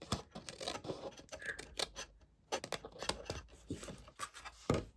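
Scissors snip repeatedly through Stampin' Up! Floral Charm patterned paper, close and crisp, in a steady run of short cuts with brief pauses.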